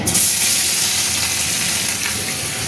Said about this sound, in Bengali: তো আগে আদা রসুনটা আমি দিয়ে দিচ্ছি